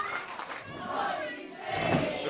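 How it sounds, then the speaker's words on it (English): A professional wrestling crowd chants together for a hometown wrestler, a dense, sustained roar of many voices filling an arena at moderate distance. "crowd chanting, "What are you saying?" for their hometown hero, Harrison Bennett, here tonight."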